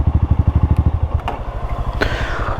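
An off-road motorcycle engine chugs with a steady, loud thumping beat outdoors on hill trails, then cuts off and fades to a quiet rumble, with a few clicks and knocks as it stops.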